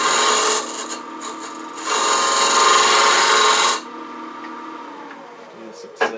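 Wood lathe turning an apple-shaped box, cut with a Cindy Drozda negative box scraper: a steady, close scraping rasp over the spinning motor hum, louder in a long middle pass, then easing off to a lighter cut.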